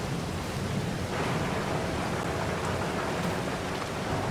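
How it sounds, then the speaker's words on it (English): Steady rain in Farming Simulator 22 on a Missouri farm, a dense continuous hiss of drops falling on surfaces, loud and even throughout with no voices. "Out of the rain."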